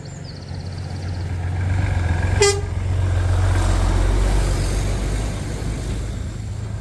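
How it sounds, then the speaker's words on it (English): A big truck rolls past on a rural road along the Camino Frances in spring, its engine rumbling steadily while a single short horn blast sounds partway through. "We got a big truck coming by."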